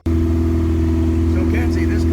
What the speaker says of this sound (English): So Kenzie, this car, it just hums. Just hums and hums.